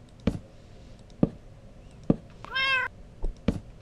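A tamed cat in the Minecraft video game gives a single clear, drawn-out meow midway, set among a few sharp soft thumps and clicks of game sounds.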